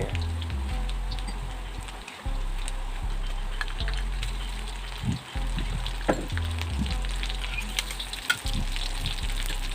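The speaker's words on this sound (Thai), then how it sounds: "พริกแกงที่เขาตำตะกี้ลงมาคั่วน้ำมันนะครับผม" Pounded curry chili paste fries in oil in a pan, with a steady crackling sizzle over a low rumbling hum and a few clinks and scrapes of stirring.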